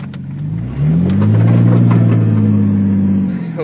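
A car engine revs hard in hill climb mode on a gravel bike trail, a loud sustained rising roar with strong low harmonics that swells after a moment and holds steady near the listener.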